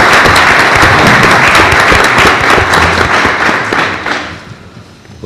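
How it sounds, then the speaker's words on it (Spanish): An audience gives a loud, dense round of applause for the director at a World Food Day event, steady and full for several seconds before thinning out and fading near the end. "Yo creo que merece un aplauso el director"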